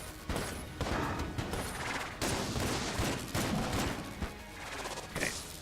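Big Iron gun firing in the video game Enter the Gungeon, dense loud rapid shots and blasts packed almost continuously with brief gaps, close and harsh, no voices.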